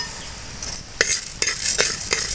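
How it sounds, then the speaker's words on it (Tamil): Urad dal fries in a pan, a bright steady sizzle broken by three or four quick spatula scrapes in close succession, near and clear with no voices. "ஒரு ஐம்பது கிராம் உளுந்த நம்ம உள்ள சேர்த்து வதக்கிடலாம்"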